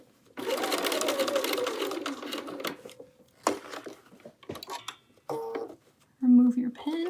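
Sewing machine stitching binding along the center front and neckline of a quilted Tamarack jacket, a fast steady whir of needle strokes for about two and a half seconds, then brief clicks and handling noises with a person speaking.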